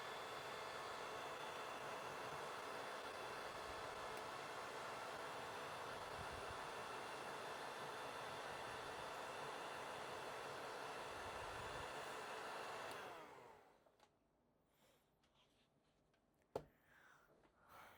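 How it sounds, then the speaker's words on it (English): An airbrush being cleaned out between paint colours for a crankbait sprays a steady hissing airflow for about thirteen seconds, then cuts off, leaving quiet with a single sharp click. "you want to clean out your airbrush"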